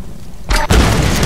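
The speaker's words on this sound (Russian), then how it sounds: "Вот, здесь он взрывается сразу." A sudden loud explosion from the video game Tomb Raider (2013) bursts in with a deep boom and rumbling debris, loud and close.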